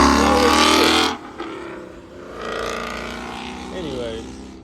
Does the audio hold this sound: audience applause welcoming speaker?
no